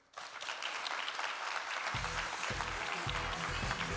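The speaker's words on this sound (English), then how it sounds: "big round of applause for our panel here" A large conference audience applauds a panel steadily throughout, with thumping low music beginning partway through under the clapping.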